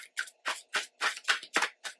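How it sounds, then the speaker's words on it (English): Tarot cards shuffle in quick, crisp riffling bursts, about eight evenly spaced flicks in two seconds, soft and close with no voices. "It's the last shuffle."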